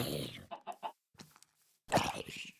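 A chicken in the Minecraft video game clucks in short, close bursts between gaps of silence, with faint game noise around it.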